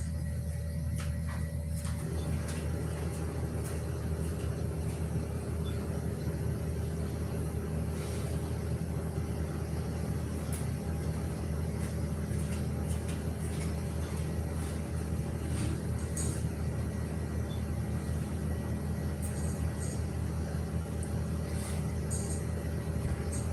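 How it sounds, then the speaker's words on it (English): A garbage truck running just outside, its loud steady engine rumble droning throughout, with scattered clanks and knocks on top. "I've got the garbage truck outside, guys. It's so loud I can't hardly hear myself talking."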